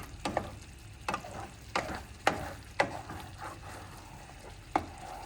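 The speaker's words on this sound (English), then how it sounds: "Make sure you stir it away from the edges. Don't let it stick on the bottom." A spoon stirs sausage gravy in a pan, with a regular series of six scraping strokes about half a second to a second apart over a low background sizzle.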